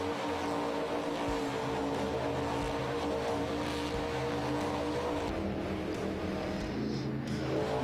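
A monster truck engine in the video game Monster Jam: Crush It! gives a steady, continuous roar that stays loud and close for the whole stretch, with no talking over it.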